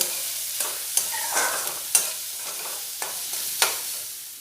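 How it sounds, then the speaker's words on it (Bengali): Chopped onions, ginger and slit green chilies frying in a pan for ghugni, with a soft continuous sizzle and several distinct spatula scrapes and taps, close by, no voices. "দিয়ে পেঁয়াজগুলো একটু 2-3 মিনিট ভালো করে ভেজে নেব।"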